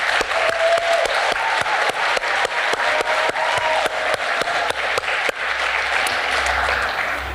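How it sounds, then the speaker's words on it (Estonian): Hall audience at a school's 50th anniversary celebration applauding the school director, loud sustained clapping with sharp rhythmic accents running through, a brief whistle-like tone early on, and crowd noise swelling near the end. "see aplaus on sulle."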